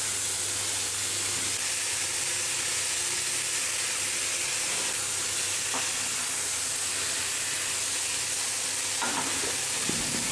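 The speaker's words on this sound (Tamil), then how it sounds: "மஞ்சத்தூள் போட்டுக்குங்க, போட்டு நல்லா வதக்குங்க" Spices, turmeric and chopped tomatoes sizzle and hiss steadily in a pan for channa masala, with occasional stirring scrapes over the continuous frying sound.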